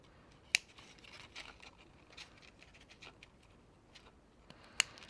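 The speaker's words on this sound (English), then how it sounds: "I'm gonna snip with my scissors." Small, well-worn scissors snip paper in quiet, scattered cuts, with two sharper snips standing out near the start and end and soft rustling between.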